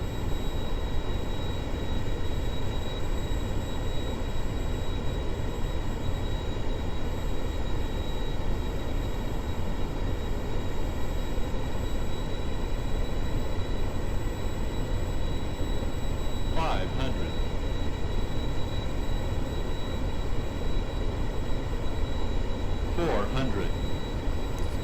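Steady, droning whine of Learjet 45 jet engines on approach in the Aerofly FS 4 flight simulator, a constant near hum with a voice briefly speaking over it.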